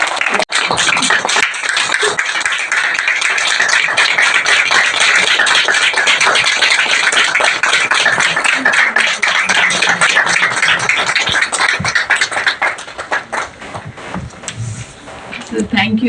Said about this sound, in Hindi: तो ज़ोरदार तालियों से स्वागत है लता बहन का।